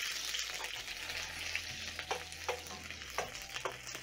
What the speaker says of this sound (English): So I'm going to add in my onions. That is a medium onion which I've sliced.